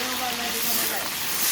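Sliced shallots frying in oil in a pan, a steady bright sizzle and hiss filling the short moment, close and continuous.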